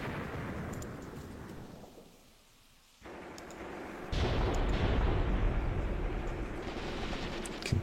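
Mortar fire lands in a video game battle. A rumbling barrage fades briefly to near quiet, then returns as a louder, sustained booming rumble with a sharp crack at the end.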